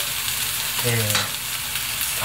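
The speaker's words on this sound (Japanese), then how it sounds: "軽く炒めてじゃがいもの表面にちょっとツヤが出てきたかなというところで" Potatoes and chicken breast lightly stir-fried in a pan, a steady close sizzle with bursts of stirring and scraping, no voices.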